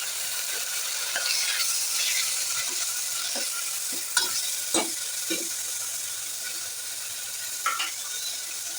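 Onions fry with ginger-garlic paste in a pan, a steady sizzle under a spoon stirring through them, with a few sharp scrapes and clinks of the utensil against the pan.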